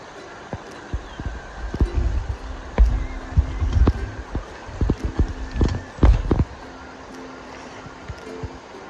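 People wading across a river on the Appalachian Trail in 2021, with irregular splashes and sloshing steps, some sharp and loud, scattered over running water.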